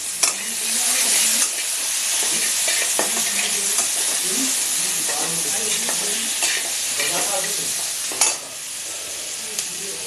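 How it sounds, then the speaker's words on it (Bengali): Pointed gourd and onion fry in a pan, a steady loud sizzle with repeated stirring scrapes and clatter over about ten seconds, close up with no talking. "আমি পটলও ভাজলাম, তারপরে আমি পেঁয়াজও দিয়ে দিলাম।"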